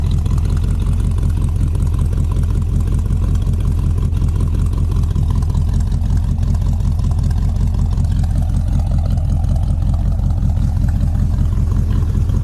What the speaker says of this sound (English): Seems to sound real nice too, if you can hear out of the dual exhaust here.